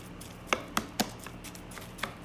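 Ground beef, eggs, breadcrumbs, Italian seasonings, garlic and Parmesan being mixed by hand for meatballs, heard as a few soft, irregular wet squishes and thumps against a quiet background.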